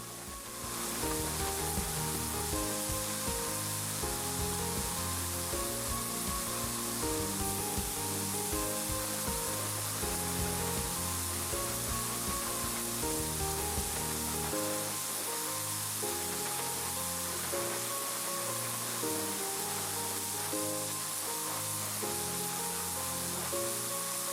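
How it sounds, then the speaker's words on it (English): A paint sprayer applies Wise Owl acrylic enamel paint in Gray Linen to furniture details and legs, producing a continuous, even hiss that runs throughout, layered over background music. "It's even better in a sprayer because now I can get great coverage over all these details and legs."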